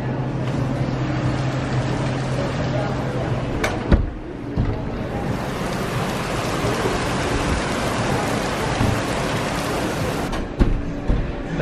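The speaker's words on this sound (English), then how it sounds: "It is raining like crazy outside. It's just coming down in torrents." Heavy torrential rain pours down outside, a loud continuous hiss of water on surfaces with a few sharp knocks and thuds breaking through, and no voices.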